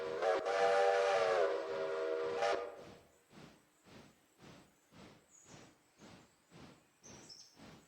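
A steam locomotive whistle in the train simulation game Railroader blows one sustained, harmonically rich blast of about two and a half seconds, then cuts off, leaving a faint, regular chuffing rhythm.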